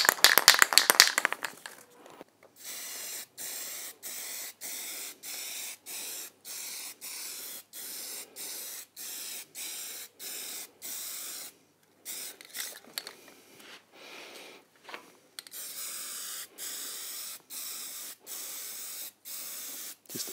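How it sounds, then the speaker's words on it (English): Flat black enamel paint hisses from a spray can onto a model plane in short, regular stop-start bursts, fairly close and quiet, with a louder rustle at the start. "Just even spraying, sort of stop start."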